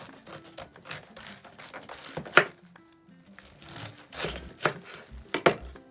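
A knife slices through napa cabbage on a board while preparing Korean geotjeori-style kimchi, giving several crisp, crunchy cuts and rustling leaves at close range, with quiet gaps between strokes.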